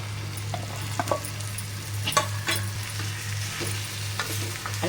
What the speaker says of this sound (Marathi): बटाटे घालून घेऊ